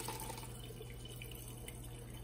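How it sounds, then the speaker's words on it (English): Warm ricotta curds and whey are poured into a cheesecloth-lined strainer with a soft, steady wet splashing and trickling. The sound is faint and continuous, with no talk. "Got my cheesecloth all lined in my strainer. And now I'm gonna carefully pour this all in."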